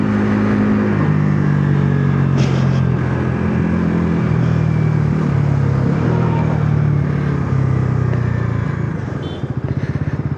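A Bajaj Pulsar NS350Z motorcycle accelerates hard, its engine note loud and close and rising steadily in pitch, then dropping away near the end.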